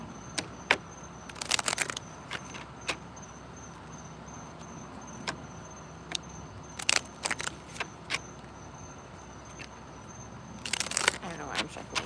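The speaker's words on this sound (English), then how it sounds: "I don't know why I'm shuffling these." Cards shuffled by hand at close range, quick riffling bursts recurring a few times between quieter clicks and handling noises, with a steady background hiss.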